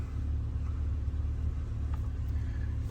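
A car engine idling while an alternator charger draws power, a steady low rumble with a constant hum and no revving, running evenly and moderately loud for the whole stretch.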